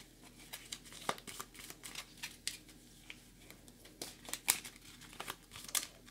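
Cardboard game counters for a tabletop war board game being shuffled and rustled by hand, a quiet, close, irregular crinkling and clicking that runs steadily throughout.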